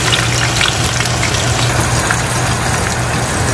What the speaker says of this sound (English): we're gonna fry the onions until they're dark brown